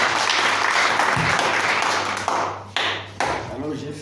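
A church congregation claps and cheers in sustained, dense applause that fills the room, with voices mixed through it and a few brief dips near the end.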